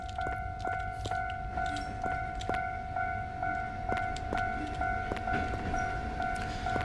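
A train rumbles through a railroad crossing while steady warning tones ring over a regular train of sharp clanks, all at a constant, fairly loud level for the whole stretch.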